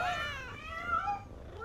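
A pet cat meows in a Little Caesars pizza commercial, a drawn-out, wavering call standing alone and fairly close.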